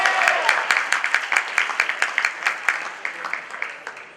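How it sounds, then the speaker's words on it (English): Audience members clap at a mentalist show, with scattered, uneven hand claps from a moderate crowd, loud and close. "Give me claps. Claps out in the audience."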